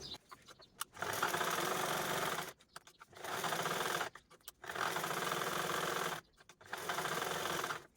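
Sewing machine stitching a 5.5 by 9 inch piece of cloth over a lining and form on all four sides to make a money pocket, running in four steady bursts with short pauses between them.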